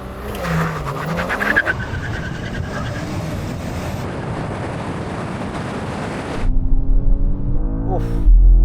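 A new BMW M5 in rear-wheel drive launches hard off the line in a drag race, a loud sustained engine roar with wind rush building over several seconds before shifting to a deeper, rising tone near the end.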